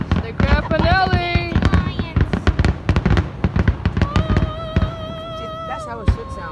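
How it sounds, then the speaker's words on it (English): Dense volley of Fourth of July fireworks exploding, loud cracks and thumps tumbling in quick succession, while onlookers shout and talk over the barrage. "Someone's like, get Steve off the fireworks"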